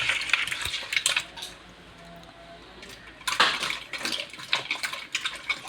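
Fish being scrubbed with salt and washed in water, with close wet rubbing and splashing in irregular bursts, scattered clinks of a dish or pan, and quieter pauses between rounds of scrubbing.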